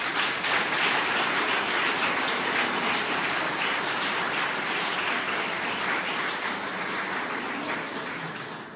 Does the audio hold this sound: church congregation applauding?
yes